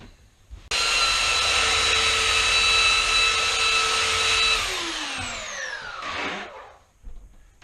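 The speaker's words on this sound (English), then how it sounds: "That's why God created a belt sander." A belt sander starts up abruptly on wood and holds a loud, steady whining roar for several seconds, then its pitch drops as it winds down and cuts out.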